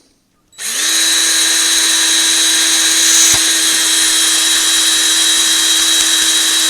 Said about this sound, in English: I am going to employ the drill and hopefully make quick work of this.